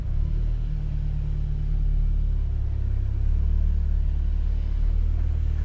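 A Seat Leon ST Cupra estate with a 300 hp engine and DSG gearbox idles steadily, a low, even rumble that shifts slightly in pitch partway through, heard close up and alone.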